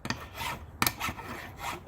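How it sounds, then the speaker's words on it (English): Scraping a brake caliper bracket down to bare metal, with repeated rasping strokes in a steady back-and-forth rhythm, close and moderately loud, and no talking. "So just give a little bit of a scrape in there, make sure it's down to decent metal."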